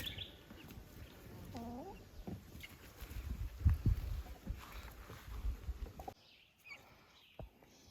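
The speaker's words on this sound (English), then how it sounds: "These are our chicks and our turkeys." Chicks and turkeys cluck and chirp softly around the listener, with scattered rustling and faint bird calls in a quiet outdoor farm pen.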